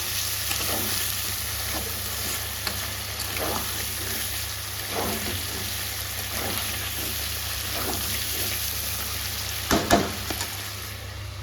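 Spice paste sautéing in a pan, a steady sizzle broken by soft rhythmic stirring scrapes and a louder clatter near the end, with no voices.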